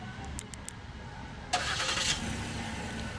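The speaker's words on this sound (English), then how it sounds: "Let's go ahead and test out the remote engine start." A 2016 Ford Edge engine, started by remote start, cranks and catches partway through, then settles into a steady idle after a few faint clicks at the start.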